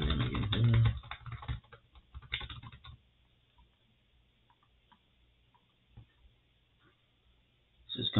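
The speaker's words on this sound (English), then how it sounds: "Let me type my name again here." Fingers tap out a name on a computer keyboard while committing a file in JupyterLab's Git panel: a dense burst of clicking keystrokes up close for about two seconds, then sparse isolated clicks over quiet room tone, with a final flurry at the end.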